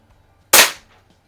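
A single sharp crack from a Barra model 900 pump action pellet rifle fired while plinking, close and clean with a short decaying tail and near silence on either side.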